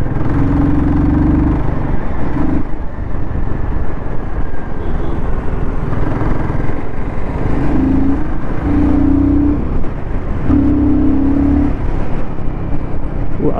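A Royal Enfield Guerrilla 450 motorcycle with a six-speed gearbox is ridden through the gears in city traffic. Its engine drones loud and steady up close, with several rising tones and short dips as the rider shifts upward.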